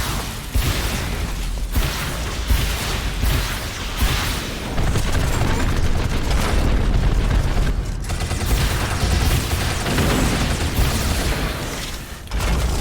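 Missile launches and explosions in the twin-stick Metroidvania game Shadow Complex Remastered, a dense, loud barrage of booming blasts and mechanical clatter continuing without pause, no voices.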